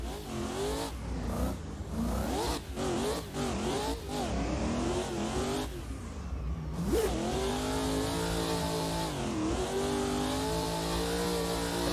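A BMW E36 race car lapping Lake Erie Speedway at full throttle, its mid-pitched engine revving hard through repeated upshifts and lifts, close and loud throughout with no talk.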